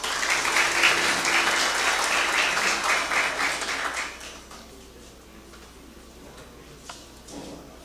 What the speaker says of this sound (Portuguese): Gostaríamos de chamar o senhor Tiago Delfino, que é representante do Sim de Açúcar, com os aplausos dos presentes